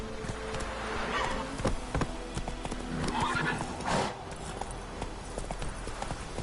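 Horse hooves drumming at a gallop in The Witcher 3, a continuous quick clip-clop under ambient insect buzz, with a brief whinny and faint game sounds.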